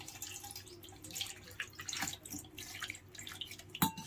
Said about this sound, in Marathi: आलू मस्तपैकी असे धुवून घेऊ.